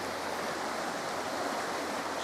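A river runs at the bottom of a roughly 30-foot bank in a wooded valley, giving a steady, broadband rushing hiss heard from a distance with no pauses and no voices.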